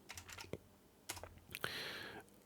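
A few short bursts of keystrokes on a computer keyboard as a sudo docker compose command is typed, quiet and close, separated by brief pauses, followed by a longer stretch of faint hiss.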